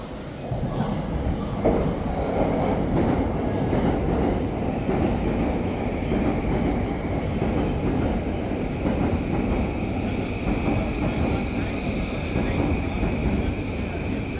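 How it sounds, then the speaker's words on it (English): A train passing in Japan on a rainy day, its broad steady rumble of wheels and carriages rolling continuously nearby with a faint high squeal running through it, no voices. "I saw my first train"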